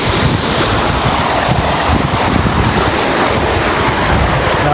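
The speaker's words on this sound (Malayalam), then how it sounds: "കേട്ടോ വാട്ടർഫാൾസ്." A small waterfall near Mount Albert in New Zealand gives a loud, steady broadband rush of falling water, continuous and close, with some wind buffeting on the microphone.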